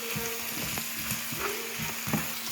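Peas toasting in a hot pan give a soft, steady sizzle with repeated stirring scrapes and light taps, close and fairly quiet, with no talking.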